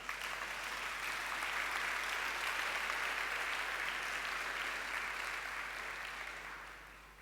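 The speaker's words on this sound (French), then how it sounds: "Acclamons le Seigneur." A church congregation applauds during a Sunday service, a sustained, dense wash of clapping that holds steady for several seconds before easing slightly at the end.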